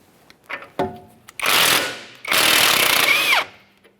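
Power tool bursts work a 19mm shock mounting nut off the rear of a Kia Forte Koup: a short tap, then two long, loud rattling impact-wrench runs, the second ending with a rising whine as the nut spins free.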